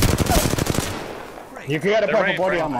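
Automatic gunfire in the battle royale game Apex Legends, a fast rattling burst of close, loud shots lasting about a second before cutting off, followed by a voice speaking.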